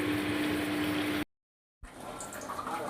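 Boiled water poured into a pot of Kolkata biryani, a steady liquid rush that stops briefly, then resumes as continuous pouring.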